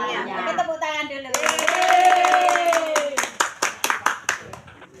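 A group of children claps in a classroom, a burst of cheering voices followed by a run of about ten evenly spaced, crisp hand claps that trail off.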